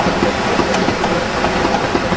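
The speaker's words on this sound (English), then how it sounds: "coming in from the north is another visiting engine, a large tank engine" A large steam tank engine rolls in hauling restored coaches, loud and near, with a rumbling chug and clattering wheels over rail joints.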